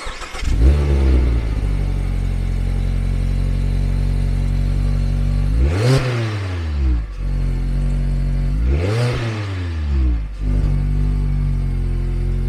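A Mazda MX-5 30th anniversary edition with a six-speed manual gearbox and rear-wheel drive, its engine revving loud and close, climbing in pitch in several strong pulls with brief drops as gears change, and no talk over it.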